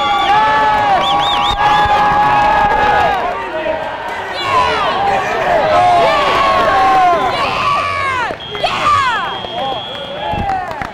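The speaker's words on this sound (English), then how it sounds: "The crowd was into every move." Loud crowd cheering and shouting at a 2006 Great Lakes Regional robotics competition, with whoops and high excited voices rising and falling continuously across the whole stretch, dense and close.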